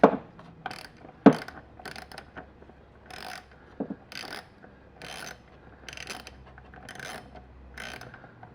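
A hand ratchet on extensions clicks in repeated short bursts while loosening clamps in a Chevy Colorado engine bay, close-up with brief pauses between strokes and a couple of sharp knocks.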